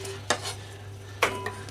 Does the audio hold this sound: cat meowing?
no